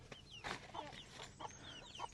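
Several chickens cluck in short, repeated bursts, close by and moderately loud, with no voices.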